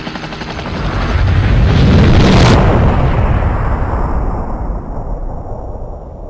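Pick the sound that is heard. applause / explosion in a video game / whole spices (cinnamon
explosion in a video game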